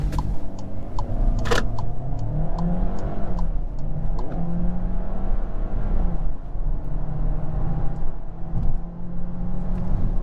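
A 2022 Volkswagen Taos SEL 4Motion crossover accelerates hard from a launch-control start, its engine revving steadily and rising in pitch as it pulls, heard loud and close from inside the cabin.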